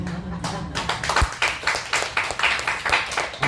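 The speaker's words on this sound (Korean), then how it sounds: "박수 소리가 왜 이렇게 나가?" A church congregation claps together in rhythmic, fairly sharp beats that follow a brief moment of speech at the start and continue for a few seconds.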